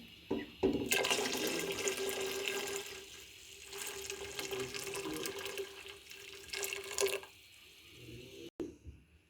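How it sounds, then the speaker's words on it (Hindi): Hot sandalwood water is poured into a pot while making homemade red sharbat, a steady splashing pour that runs for several seconds and then stops with a few clinks. "संदल का पानी हमने शामिल कर दिया है।"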